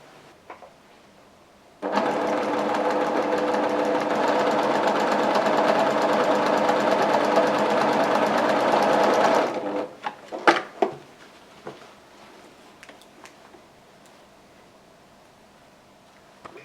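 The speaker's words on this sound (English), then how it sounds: "So I'm off to the sewing machine now to do that." A sewing machine runs steadily for several seconds with a continuous whirring drone, then stops, followed by a few scattered knocks and clicks.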